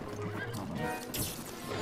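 A horse in the video game Breath of the Wild whinnies loudly over the game's background sounds, with hoofbeats clip-clopping along under it, the neigh running nearly two seconds.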